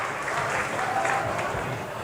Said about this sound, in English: Another round of applause, ladies and gentlemen. Come on, put your hands together.